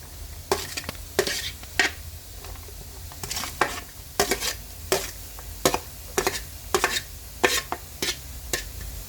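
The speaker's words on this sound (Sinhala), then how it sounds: "ඒ ටිකක් නැලවෙන්න හරිමු" Carrots fried with chili flakes and salt are stirred in a pan: a series of irregular scraping spatula strokes, close and fairly loud, over a faint steady sizzle, with no talking.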